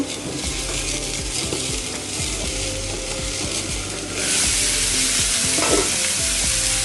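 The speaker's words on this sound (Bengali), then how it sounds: "বেগুনটা পুড়ছে একটু ঘুরিয়ে ঘুরিয়ে পুরে নেব" Whole eggplant roasting directly over a gas flame with garlic cloves in their skins, a continuous close sizzle and crackle with small ticking pops that grows louder partway through.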